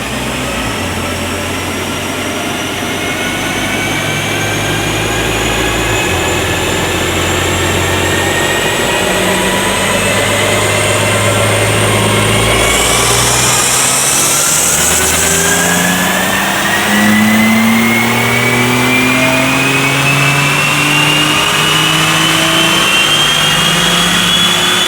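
A BMW M4 fitted with ram air intakes runs on a dyno, its engine droning steadily then revving hard and climbing in pitch through a long pull, loud and close with no talk.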